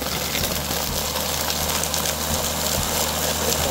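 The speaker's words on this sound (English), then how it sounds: "And now let's blend it up." Countertop blender whirring through a fruit smoothie mix, a steady loud motor drone with churning noise that holds constant throughout.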